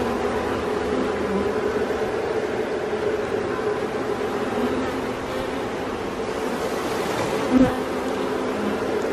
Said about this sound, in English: A whole bunch of bees.